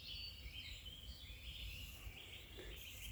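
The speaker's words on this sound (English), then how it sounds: "the only noise you hear is the birds around singing." Birds sing in a spring woodland of bluebells and wild garlic, faint scattered chirps and calls over a soft, steady outdoor hush with no talking.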